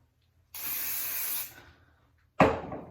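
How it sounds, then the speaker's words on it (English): Surface Taffy Wax sprayed onto hair gives a steady, close hiss lasting about a second, followed after a pause by a second short, sharp burst of spray. "When you first spray it onto the hair, it's a little scary."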